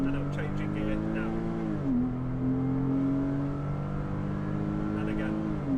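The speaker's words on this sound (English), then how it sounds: "I'll accelerate really hard, and I'm changing gear now." A Porsche with a Tiptronic automatic gearbox accelerating hard: the engine note climbs, drops sharply at an upshift, then climbs steadily again toward another shift, loud and close, with a voice talking over it.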